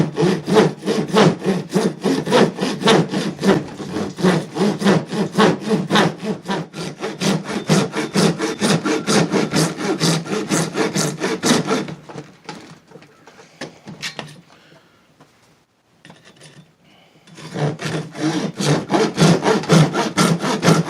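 A saw cuts PVC pipe into rings for a lightsaber hilt, a steady run of rapid rasping back-and-forth strokes, close and loud, that stops briefly and then resumes.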